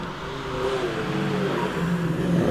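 A TVR Griffith sports car accelerates up the Prescott hillclimb course, its engine a sustained rising drone with shifting tones, growing louder toward the end.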